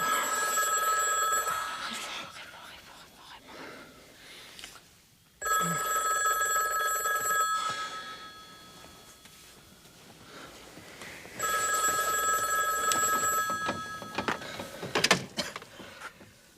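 A telephone rings unanswered in three long electronic bursts separated by pauses, fairly loud indoors, with brief speech and small room noises in between.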